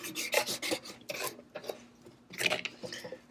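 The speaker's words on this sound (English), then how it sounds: "now go back with my scraper" A scraper tool smooths vinyl scraps onto a surface in short, dry rasping strokes, several quick passes in bursts with pauses between, close and fairly quiet.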